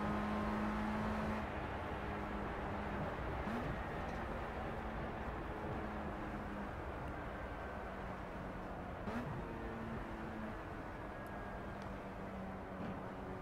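Several Formula Rookie single-seater race car engines in the Project Cars racing game drone steadily at a distance around Silverstone Grand Prix circuit, a faint continuous hum with gently shifting pitch and no talking.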